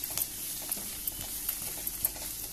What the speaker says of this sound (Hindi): अब इसमें आलू डाल देते हैं, दो मिनट के लिए इसको फ्राई करेंगे